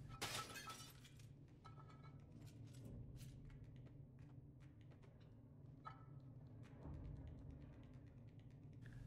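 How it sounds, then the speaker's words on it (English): Glass shatters in the video game Little Nightmares, a sharp crash at the start followed by scattered tinkling fragments over low ambient game drone. "Then break the glass and retrieve the fuse."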